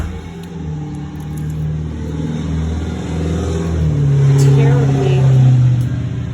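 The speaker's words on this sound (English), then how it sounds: "Terribly sorry about the cars driving past." Cars drive past outdoors, a loud, low engine rumble that swells as a vehicle nears and passes, heard over a person talking close by.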